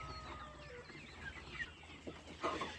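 Several three-month-old free-range desi chickens on a poultry farm cluck softly and intermittently, fairly quiet and a little distant, with a few sharper calls near the end.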